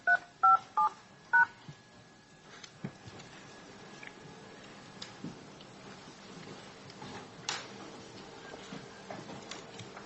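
Telephone keypad DTMF tones entering a PIN to join a conference call: four short, loud beeps in quick succession at the start, followed by quieter room noise and faint clicks.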